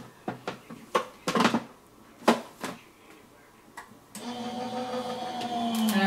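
An Empress electric die-cutting and embossing machine runs steadily, a close mechanical hum that starts after several sharp clicks and taps of plates and shims being set in place for floral card dies.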